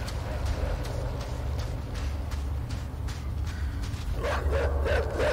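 Dogs bark in the dark puzzle-platformer game INSIDE, a few sharp yips and woofs rising near the end over a steady low game ambience.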